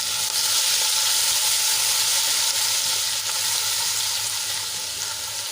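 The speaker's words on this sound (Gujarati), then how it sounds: "અને તેલમાં આપણે એને સરસ રીતે સાંતળી લઈશું।" Garlic and chili paste with a pinch of asafoetida sautés in hot oil, giving a loud, steady, close sizzle that holds for the whole stretch with no voices.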